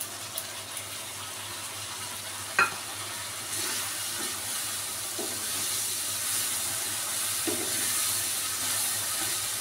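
A spice paste of ginger, garlic and chilli, with Kashmiri chilli, cumin and coriander powder, fries and sizzles steadily in a pan, with a soft thump of it landing and occasional stirring scrapes.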